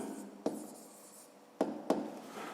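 Pen or pencil writing on paper while working a fifth-grade maths exercise, soft scratchy strokes with a few sharper taps as marks are made, close and quiet, no talking.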